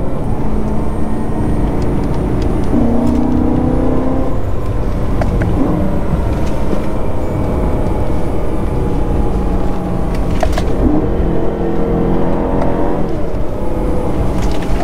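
Supercharged 2011 BMW E90 M3 driving a winding back road, its engine droning steadily and loud throughout, with pitch dips where gears shift mid-corner.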